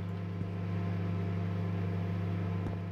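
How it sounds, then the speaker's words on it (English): A microwave oven in a convenience store video game runs with a loud, steady electrical hum and a low drone that never changes, broken only by two faint clicks. "The microwave's so loud, I can't watch my show."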